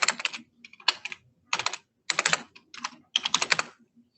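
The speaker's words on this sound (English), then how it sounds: "Then you start typing in your code." Bursts of rapid key clicks on a computer keyboard as a code is entered, five or six quick clusters separated by short pauses, close and clear with no talking.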